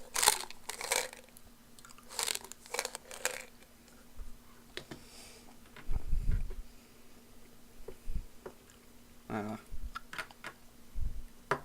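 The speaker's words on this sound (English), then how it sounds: "I'm going to get some gum here." Close, wet chewing of a piece of gum, with soft crunches and bites in irregular bursts, a couple of louder low thumps, no talking.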